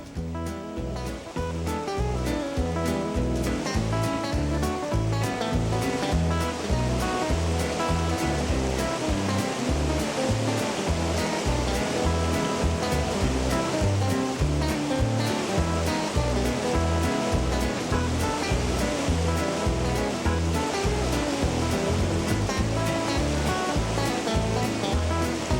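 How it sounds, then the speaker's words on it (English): White-water rapids on the river flowing out of Maligne Lake in the Canadian Rockies give a steady, dense roar of rushing water, loud and unbroken throughout with no voices. "The rafts set out from Moline Lake and enter the outflow as they start this wild"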